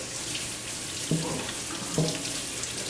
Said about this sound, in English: Make sure you rinse it with cold water so we don't start the cooking process.